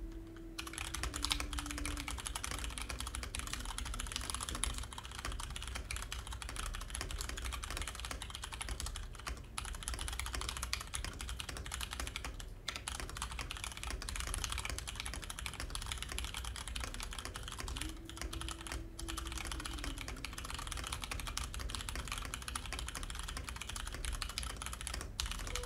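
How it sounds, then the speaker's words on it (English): Steady, close clatter of fingers typing on a computer keyboard during a Monkeytype typing test, continuous keystrokes running the whole time with no one speaking. "Let's do a monkey type for some keyboard noises."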